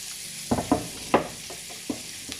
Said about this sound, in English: Just going to add the onion, half a green pepper diced, and 1 large Jelepeno chilli